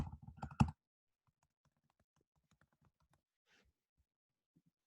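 A short quick burst of typing on a computer keyboard, close and brief, followed by near silence with only a few faint scattered ticks.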